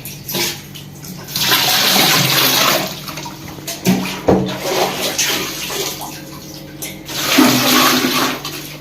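A clogged toilet is flushed, giving a loud rushing gush of water that swells, gurgles and surges again as the bowl fills rather than draining, heard close and without talk.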